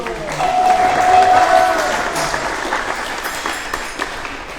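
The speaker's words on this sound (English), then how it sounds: "let's give him a round of applause" An audience at a Balarama Purnima lecture claps for Shri Prabhu in a short round of applause that swells and then fades, with a brief ringing tone early on and some voices mixed in.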